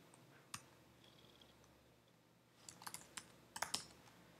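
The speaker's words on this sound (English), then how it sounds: "this is what I'm gonna type" Quiet keystrokes on a computer keyboard, first a single isolated tap and then a small cluster of clicks in an irregular rhythm, close but faint.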